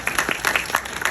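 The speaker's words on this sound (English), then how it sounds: "Small round of applause for myself." Short burst of audience applause at a Juneteenth gathering, a handful of distinct claps close by forming a brief, uneven patter.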